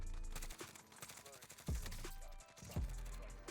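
Gunfire in Call of Duty Warzone, a few quick bursts of shots with two heavier sharp cracks standing out, set against game ambience, moderately loud with irregular spacing.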